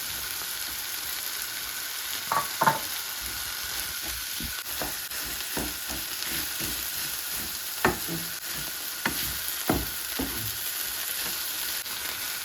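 Ridge gourd curry with grated coconut sizzles in a pan while a spoon stirs it, a steady frying hiss broken by scattered scraping knocks, close and moderately loud, with no voices.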